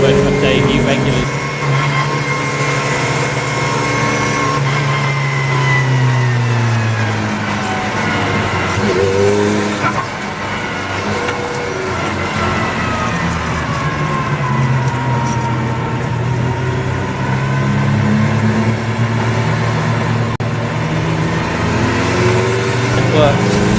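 Racing car engines, a VW Golf TDI and Audi TT among them, drone and rev on the Croft circuit, steady and moderately distant beneath continuous commentary.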